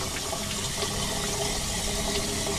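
Leaves being rinsed under a running kitchen tap, a steady close splashing stream of water that continues without a break and with no talking.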